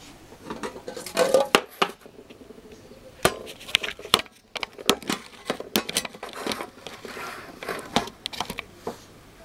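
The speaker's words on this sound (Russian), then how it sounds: "буду резать огурчик" A knife slices a cucumber on a cutting board in a kitchen, giving a series of sharp, irregular chopping taps and knocks, close and fairly quiet.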